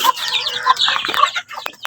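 A hen clucks repeatedly in short, bright bursts, fairly close and fairly loud, with no one talking.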